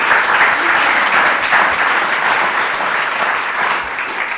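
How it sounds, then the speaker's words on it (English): A room full of attendees at an evening members' event applauds the donors, with steady, dense clapping that holds throughout at full strength and no talking over it. "Let's give all of our donors a big round of applause."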